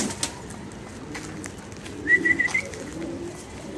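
Pigeons on a loft roof give a brief soft series of coos and calls at moderate distance, with faint rustling around them.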